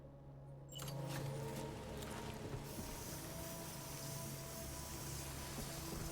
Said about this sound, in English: I love the spraying animation